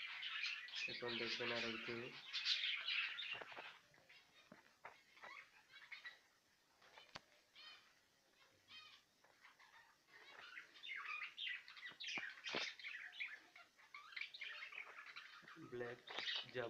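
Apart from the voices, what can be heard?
black Java sparrows chirping in cages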